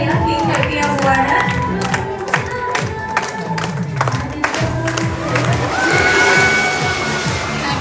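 Festive crowd at a baby girl's first birthday party claps and cheers around a cake cutting, a busy wash of hand claps and voices mixed with chatter throughout.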